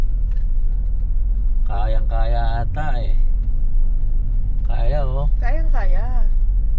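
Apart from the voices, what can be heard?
sedan car driving on a road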